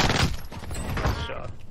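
A dense crack of gunfire from Call of Duty Warzone hits loud and close, a booming burst that decays over under two seconds, with voices faintly mixed in.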